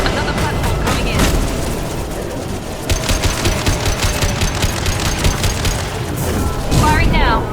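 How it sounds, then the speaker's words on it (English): Rapid sci-fi weapon fire and heavy booms from a Mass Effect 2 firefight, loud and dense throughout, with in-game voices calling out over the shooting. "Firing now."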